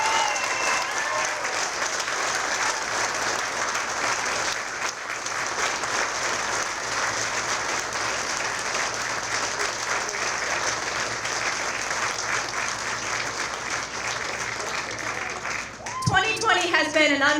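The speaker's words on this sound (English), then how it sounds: "Let's give them a big round of applause." Big, sustained applause from a crowd at a Republican election night victory party in Glens Falls, a thick steady roar of clapping that runs on at length before a voice cuts in near the end.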